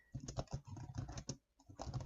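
Rapid typing on a computer keyboard, dense clusters of close, crisp key clicks with a brief pause before the tapping resumes.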